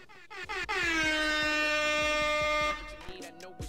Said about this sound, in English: one more air horn for Bow Wow.